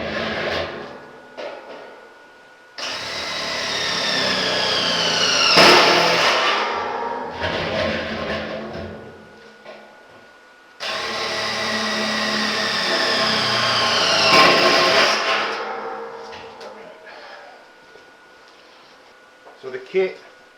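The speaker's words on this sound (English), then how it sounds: "So now I'm going to go around, just fill the hole, drill the holes out." A power drill whines loudly in two long bursts, pitch climbing as it bites through a 55-gallon metal drum, with short pauses and clatter between.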